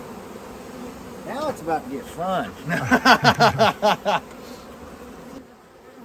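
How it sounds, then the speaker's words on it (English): Honey bees buzzing in a low continuous drone as the field force returns to a bee box in South Georgia, with someone talking loudly over the swarm close by. "That's a box of bees."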